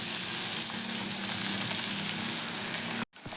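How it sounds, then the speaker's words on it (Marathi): Chopped onion fries in oil in a pan, a constant close sizzle with a soft, even crackle that cuts off abruptly near the end, no voices. "कांदा छान असा आपण तेलावरती 1 मिनिटभर असा भाजून घेऊया सुरुवातीला आपले"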